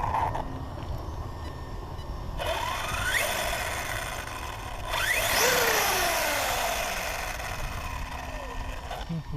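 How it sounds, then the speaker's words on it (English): A test rig runs a Draco differential case, giving off a steady mechanical drone under a high, rising and falling whine that swells twice, sounding close and moderately loud with no voices. "Kind of a funny noise going on. Like a whine, if you can hear that."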